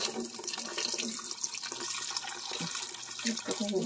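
Water running steadily from a sink tap while jewelry is washed, a continuous hiss with faint splashes and small clinks close by.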